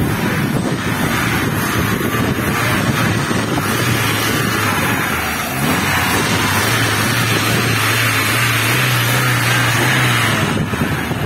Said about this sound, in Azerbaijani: motorun səsini eşitdiniz, motoru belə işləyir